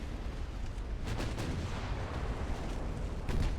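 Naval gunfire and an ammunition explosion aboard a warship in the Ultimate Admiral: Dreadnoughts naval combat game, a steady low rumble broken by a few booming blasts, loudest near the end.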